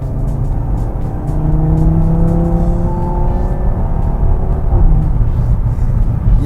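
An Audi TT engine in dynamic drive mode with S-tronic gearbox, heard from inside the car as a steady rumbling drone that rises in pitch through a gear change, with no talking.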